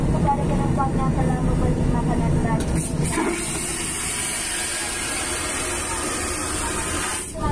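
A loud vacuum toilet flush roars with a rushing hiss over steady airplane cabin drone, then settles back into the engine hum.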